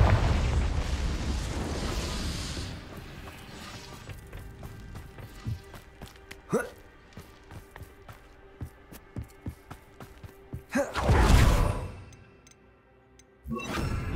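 A Confringo spell blast goes off in the video game Hogwarts Legacy, a sharp burst near the middle followed by scattered pops and crackles, then a louder rushing eruption toward the end, with no voices.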